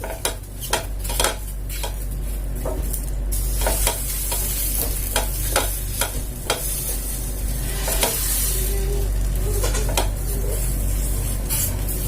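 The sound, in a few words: kocho (Ethiopian enset bread) baking on a small griddle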